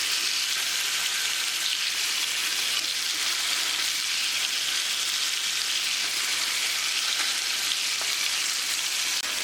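Alfaham chicken fries on high flame in a pan while pressed down under a heavy stone, giving a loud, continuous, even sizzle with no pauses and no talking.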